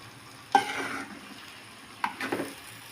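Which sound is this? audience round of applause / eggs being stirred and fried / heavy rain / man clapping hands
eggs being stirred and fried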